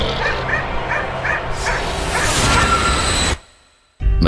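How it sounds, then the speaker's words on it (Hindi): A pet dog named Jackie barks loudly in a rapid run of yips and whimpering bow-wows close by, then the sound cuts to near silence before resuming briefly. "जैकी भी ठीक मेरे पीछे देखकर जोर जोर से भौंकने लगा,"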